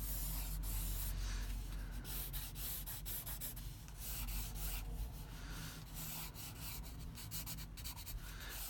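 Scissors or a blade cut diagonally through paper for a concertina envelope journal, giving close, dry scraping and rubbing strokes in a steady run with no talking.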